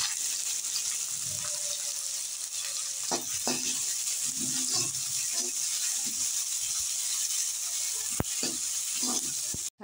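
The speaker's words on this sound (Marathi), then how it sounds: "आता आपण ह्याच्यामध्ये कांदा घालूया" Onion frying in a pan over medium-low heat with bloomed cumin, a dense, continuous close sizzle with a few soft stirring scrapes and clicks throughout; no talking.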